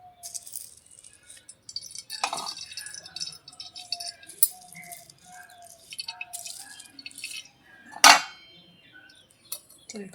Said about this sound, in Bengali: তো এখন আমরা ছেঁকে নেব তেলটা, ঠান্ডা করে সুন্দর করে তেলটা ছেঁকে নেব।